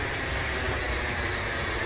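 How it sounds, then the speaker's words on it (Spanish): A Shinkansen bullet train in Train Simulator Classic fills the moment with a steady, heavy rumble and airy aerodynamic rush, loud and unbroken, with no voices. "Eso es ruido aerodinámico principalmente."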